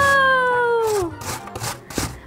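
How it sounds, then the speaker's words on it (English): Fuji apple rubbed against a cheese grater, brief rasping scrapes after a fading tone, close and fairly loud for a couple of seconds. "use a grater, cheese grater here. And we want to just grate the apple"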